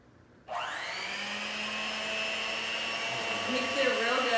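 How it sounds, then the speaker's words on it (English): An electric mixer whirs steadily through box cornbread batter sweetened with honey, switching on abruptly and running loud and continuous with a slight rising strain toward the end. "And we're gonna let him mix it"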